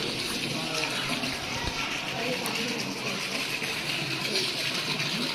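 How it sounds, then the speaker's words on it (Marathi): Hot spring water pouring into a bathing pool at the Vashishtha temple near Manali, a steady broad rushing gush under people talking. "हे इथनं वरून कुठून तरी गरम पाणी येत आहे."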